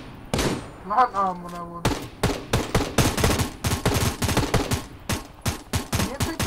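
Rapid M4A1 rifle fire in the Knives Out video game, with loud, dense bursts of shots running continuously after a brief spoken exclamation at the start.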